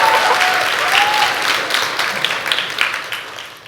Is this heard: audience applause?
yes